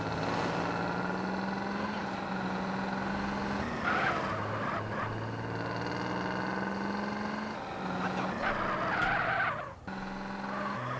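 A car in GTA San Andreas skids under the handbrake, a long scraping tire skid over a steady droning engine that keeps going for the whole stretch, with no talking.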